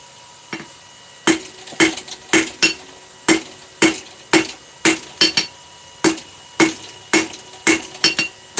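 Hammer blows ring out on hot metal being forged down to a taper, a steady run of sharp, bright, close strikes roughly every half second with a few quick doubles and no talk.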